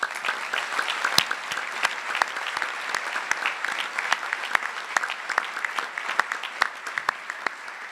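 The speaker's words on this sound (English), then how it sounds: "let us give you an applause?" An audience at an award presentation claps steadily for several seconds, a dense patter of hands from a moderately sized crowd in a room.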